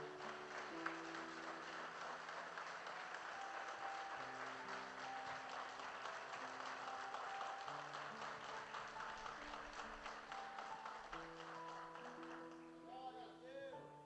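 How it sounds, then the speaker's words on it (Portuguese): Church congregation applauding a pastor during a sermon, a steady wash of clapping with sustained organ or keyboard tones running underneath throughout. "Eu queria uma salva de palmas pela vida do pastor."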